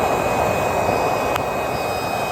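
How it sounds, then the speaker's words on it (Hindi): A homemade improvised gas stove burner, rigged up as a stand-in for an LPG cylinder setup, roars loudly and steadily at close range with a constant broadband rush, alone without talk. "हमारा जल गया चूल्हा।"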